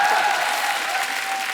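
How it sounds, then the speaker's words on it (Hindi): Studio audience applause on a Kapil Sharma Show comedy taping, a steady dense wash of clapping that holds loud and even throughout with no other sound on top. "ये जब तालियां मारते हैं ना,"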